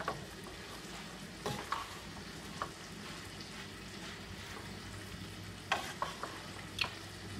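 Peppers and onions frying with pork in a pan give a soft, steady sizzle, with occasional sharp clicks of a utensil against the pan.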